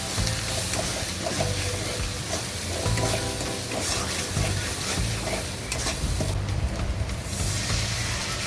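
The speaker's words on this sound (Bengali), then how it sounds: "এবার মশলাটা সুন্দর করে নেড়ে চেড়ে" Spice paste fried and stirred in a pan for a home-style potato and duck egg curry, a dense continuous sizzle with close, constant scraping and stirring that barely lets up across the whole stretch.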